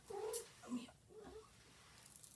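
A domestic cat meows a few times indoors near a warp-weighted loom, quiet and somewhat distant, the calls short and wavering with gaps between them.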